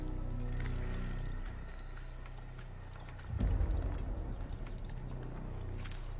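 A horse's hooves clip-clop at a steady trot in the Assassin's Creed video game, with a muffled rumble throughout and a louder, busier stretch of hoofbeats in the second half.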